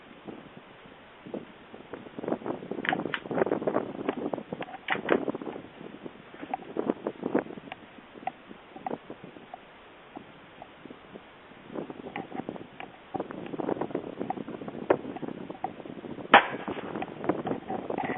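Strong wind gusts buffet the microphone outdoors in Livingston, Montana, rising into loud, rough rumbling bursts and easing into quieter lulls over a long stretch, with no talking.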